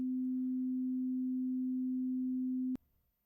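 Pure sine test tone at 250 hertz, near middle C: a steady, unwavering single pitch held for nearly three seconds, then cut off abruptly with a brief click, leaving near silence.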